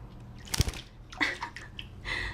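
A pet bird splashes in a bird bath, throwing up a few close, sharp bursts of sloshing water with quieter dripping between them.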